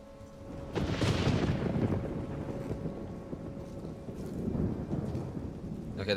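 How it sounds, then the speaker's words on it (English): Thunderstorm ambience in the horror game Resident Evil Requiem: a loud rolling thunder rumble swells after the first second, then eases into steady rain and wind before a second low surge near the end, with no talking over it. "the thunder effects are actually really good"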